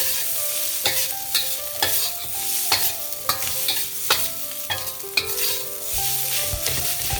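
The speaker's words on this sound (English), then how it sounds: "The onion should be caramelized, and I'm gonna go ahead and mix it all in" Onions caramelize in a wok for hibachi fried rice with a quiet, constant sizzle, broken by sharp, irregular clacks of a utensil mixing and scraping the pan.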